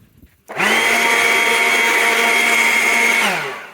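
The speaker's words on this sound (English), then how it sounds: "Then get out my handy dandy leaf blower." A leaf blower blasting dust out of an old Gilfillan Bros radio chassis starts abruptly, holds a loud steady whine with a droning hum for about three seconds, then winds down.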